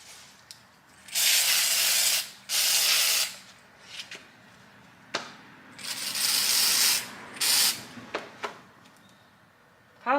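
Several bursts of Rust-Oleum stone-effect spray paint hiss loudly onto a sign, each lasting a second or two, separated by pauses with small taps and clicks.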